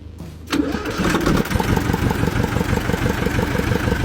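A Xingtai 220 two-cylinder water-cooled tractor engine cranks briefly and catches, then settles into a steady, loud, rhythmic diesel idle with a pulsing chug, close by and alone.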